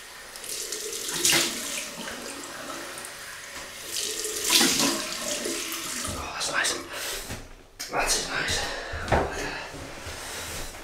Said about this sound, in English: So we'll have a cold water rinse.